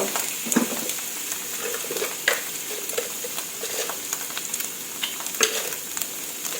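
Bamboo shoots and egg stir-fried with light soy sauce and sugar: a constant sizzle with repeated scrapes and clicks of a spatula against the pan, close and clear.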